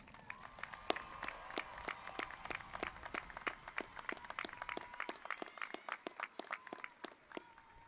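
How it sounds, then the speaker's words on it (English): Scattered, faint hand claps from a thin audience at the Waxahachie High School 2024 graduation ceremony, individual claps sounding in a loose, uneven rhythm for several seconds over a soft sustained tone. "Let's give them a round of applause."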